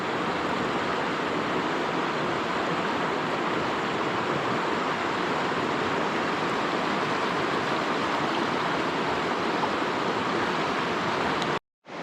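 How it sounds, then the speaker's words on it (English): The Middle Fork Snoqualmie River rushes in a steady, dense broadband wash of flowing water, loud and close, continuous for the whole stretch before a sudden cut at the end. "Alright, I had to get some more video of the river."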